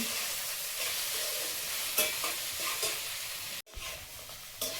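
Cumin and black cumin seeds frying in hot oil: a continuous close sizzle with a few clinks of a spatula stirring and a brief break near the end, no talking.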